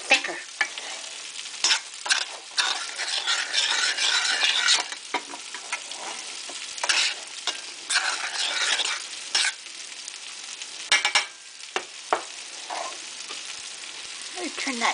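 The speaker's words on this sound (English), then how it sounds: "Now, we'll give this a stir. Meat pie mixture." Meat pie mixture cooking in a pan and being stirred, with repeated scraping and clattering strokes over a continuous sizzle that rises and falls in bursts, heard up close with no speech.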